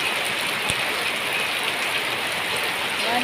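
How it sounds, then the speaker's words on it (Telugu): Heavy rain falls in a steady, dense hiss that holds evenly from start to finish, with one brief tap near the beginning. "ఈరోజు వర్షం బాగా పడుతుంది"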